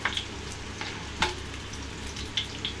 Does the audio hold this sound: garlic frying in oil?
yes